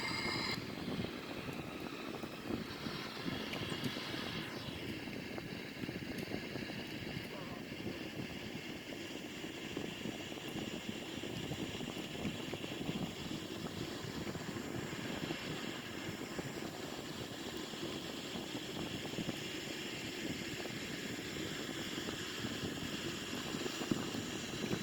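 Flight simulator Sukhoi-30 jet cruising over Switzerland, a steady, faint engine drone that holds constant throughout with no changes in pitch or level.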